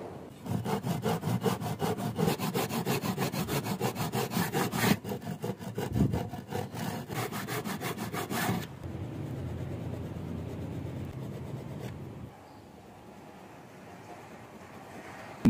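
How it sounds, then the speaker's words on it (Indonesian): A hand saw rasps through wood in fast, steady back-and-forth strokes, close and loud, then the cutting stops and a quieter hum lingers. "sesudah itu kita gergaji untuk garis ini ya"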